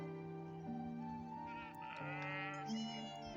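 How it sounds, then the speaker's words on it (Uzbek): A sheep grazing on a mountainside bleats in long, wavering cries, fairly close, with a second bleat overlapping near the end; no talking. "Mana atrofda qo'ylar."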